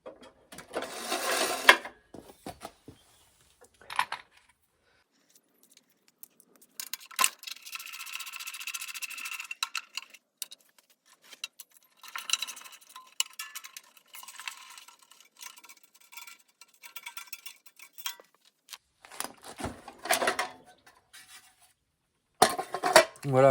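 Parts come off the engine cover of a Briggs lawnmower: scattered rattles, scraping and clicks of tools and plastic, sometimes in short busy bursts, separated by quiet gaps, close by.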